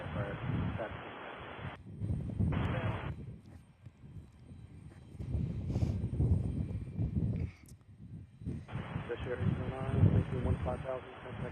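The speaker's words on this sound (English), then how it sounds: "so we'll watch for this United Express that is taxiing down" A United Express airliner taxis at Kansas City International Airport, its engines a low, steady rumble in the background beneath a person talking.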